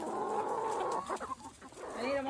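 Homestead chickens clucking and squawking close by, several birds overlapping in a busy, continuous chorus with no talking.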